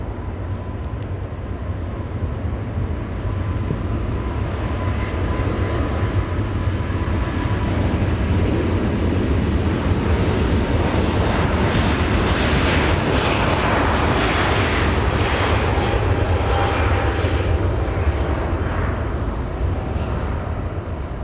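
A Southwest airliner lands on runway 24 right at Los Angeles International Airport, its engine roar swelling and holding as a broad, loud continuous rumble and whine for the whole stretch.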